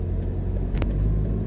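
A car rolling along Main Street in Falmouth, Jamaica, producing a steady low rumble of engine and road noise heard from inside, continuous and fairly loud, with a brief sharper thump midway.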